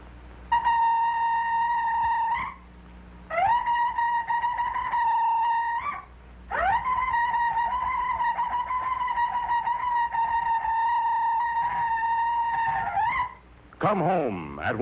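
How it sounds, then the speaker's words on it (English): A shofar, a ram's horn, sounds in a 1960 cartoon: four loud, sustained bright blasts, each holding a steady pitch and bending at its end, followed by a short warbling, garbled tone. "I have fashioned for myself an instrument made from the horn of a ram"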